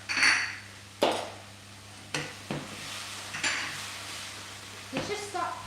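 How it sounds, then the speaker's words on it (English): Dutch baby pancake batter being stirred in a bowl, a utensil clinking and knocking against the sides in several separate strikes and scrapes. "give that a little stir around."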